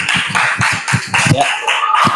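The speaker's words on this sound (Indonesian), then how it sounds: "Bagus sekali, tepuk tangan dulu." A classroom of elementary school pupils claps hands in a quick rhythmic pattern, close and loud, with voices mixed in among the claps.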